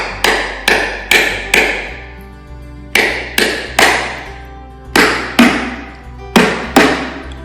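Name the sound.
tapping a hard coconut with a cleaver until it cracks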